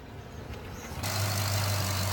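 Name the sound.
car engine running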